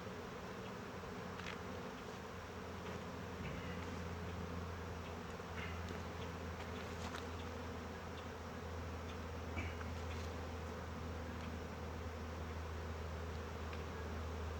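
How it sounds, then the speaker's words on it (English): Honeybees swarm and buzz around an opened hive in a cold-climate beekeeping setting, a dense, steady drone that carries on without pause from start to finish with no voices. "That is a ton of bees."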